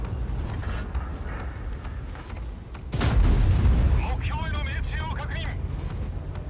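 A tank cannon fires in the World of Tanks video game, one loud, sharp boom followed by a rumbling tail, with a voice talking briefly afterward.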